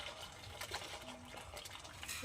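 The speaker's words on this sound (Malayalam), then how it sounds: "ഞാൻ ഈ പാത്രത്തിൽ ഒഴിച്ചിട്ട് നമുക്ക് അതിലോട്ട് ഒഴിക്കാം" Very hot coffee poured from one vessel into another in a home kitchen, a quiet, steady liquid gush lasting a couple of seconds, with no one speaking.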